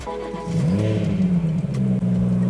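A car engine in Sport Plus mode revs through an aftermarket Remus exhaust, swelling from idle into one loud, close throttle blast that holds and wavers before dropping back, with no voices over it.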